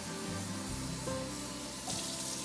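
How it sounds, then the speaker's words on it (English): Water is poured into a pot over a rice mixture for yellow Spanish rice with shrimp and chicken, a continuous close splashing pour that runs steadily without a break. "I'm going to put water now to cover it to cook the rice."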